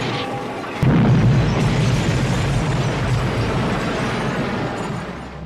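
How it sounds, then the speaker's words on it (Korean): A toy store explodes in the 1988 horror film Child's Play: a sudden loud boom hits about a second in, then a sustained rumbling roar of fire and debris fills the rest of the clip, with no voices. "장난감 가게는 폭발하게 됩니다."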